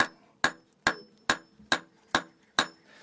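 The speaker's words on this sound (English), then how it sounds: "First, I beat in a small bevel line." A hammer forges a small bevel line on a hot camp knife blade, striking seven sharp, ringing blows at an even, steady pace, close and clear with no talking.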